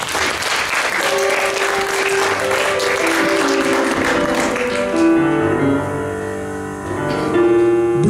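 Audience at a blues concert breaking into loud, dense applause that gradually thins as sustained guitar and organ-like tones from the band take over, the clapping fading under the music near the end.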